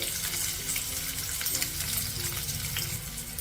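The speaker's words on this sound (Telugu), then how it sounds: "ఉల్లిపాయ ముక్కల్ని పచ్చిమిర్చి ముక్కల్ని ఒక నిమిషం ఫ్రై చేసుకోవాలి" Chopped onion and green chilli pieces frying in a pan give a soft, steady sizzle at low volume. A quiet hum sits underneath, with no speech.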